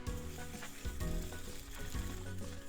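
Sesame seeds are ground in a mortar with a rough, gritty, rhythmic scraping, close and faint, with no voices.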